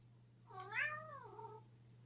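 A pet cat gives a single drawn-out meow, rising then falling, close by and clear over a low steady hum in a quiet room.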